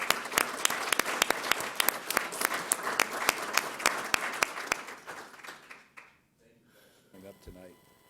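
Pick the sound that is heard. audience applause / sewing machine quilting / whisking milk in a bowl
audience applause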